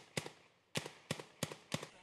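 Sharp gunshots crack out during a shootout between Guatemalan elite forces and drug traffickers at a house, five quick reports in an irregular sequence with brief echoing tails, heard at a distance.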